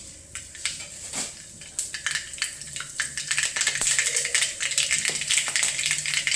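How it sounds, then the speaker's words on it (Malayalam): Mustard seeds popping in hot oil for sambar, a rapid scatter of sharp little crackles and pops that thickens into a dense, steady spatter, close and moderately loud, with no voices. "കടുക് പൊട്ടി"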